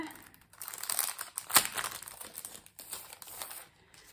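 Plastic packaging around a set of craft cutting dies crinkles and crackles as it is opened, with one sharper crunch near the middle and scattered rustling throughout, close and fairly loud.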